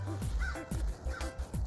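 A crow flying overhead gives a few short, harsh caws outdoors in the cold, fairly close and in quick succession, with a low rumble underneath.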